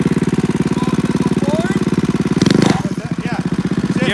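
Ford Explorer engine held at a steady, loud rapid-pulsing rev during a burnout, the throbbing drone briefly surging and breaking up near the end with voices talking over it.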